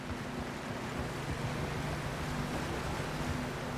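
River water flows in the video game Red Dead Redemption 2, a continuous rushing, wind-like wash that is close and steady, with no talking.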